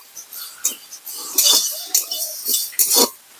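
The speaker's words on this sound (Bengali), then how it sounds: "তাহলে এখন আমি মশলাটা ভালোভাবে ভেজে নেব।" Whole coriander, cumin and fennel seeds dry roasting for a sweet raw mango pickle, stirred in a pan, give about six short bursts of scraping and metallic clinks at an uneven pace, fairly close, with no voices.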